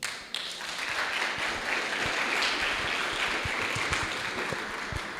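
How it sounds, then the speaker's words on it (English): Steady applause from an audience at a university dialogue on student movements, a dense even wash of clapping that rises quickly after a brief opening sound and holds at moderate loudness without talk. "I want to see you and hear you applauding for yourselves."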